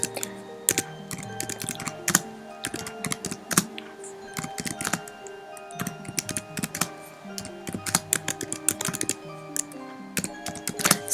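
Notes are typed into Evernote on a computer keyboard, a close, steady stream of crisp key clicks and taps with an irregular rhythm lasting throughout.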